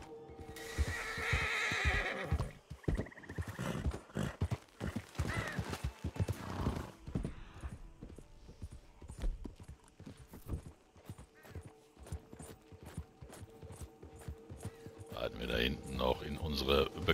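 Nervous horse in the video game Red Dead Redemption 2 whinnying loudly, then hooves clip-clopping in a steady rapid beat as it moves off, with someone talking over it.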